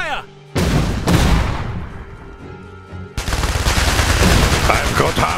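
Gunfire in the real-time strategy game Iron Harvest: loud, dense bursts of shots and booming blasts erupt after a brief quieter moment, then continue as a sustained, heavy barrage with a voice shouting amid the battle.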